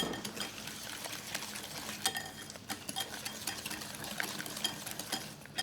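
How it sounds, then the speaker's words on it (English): A utensil stirs vanilla and almond extract into keto chocolate chip cookie batter in a bowl, producing steady close scraping and soft clinking strokes in a continuous rhythm. "you just want to mix this until all well combined"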